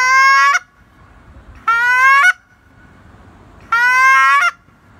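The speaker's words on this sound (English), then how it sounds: "it's going to break that reed in the call and give you that nice honk." Three loud, nasal honks from a goose call, each lasting under a second, separated by short quiet gaps.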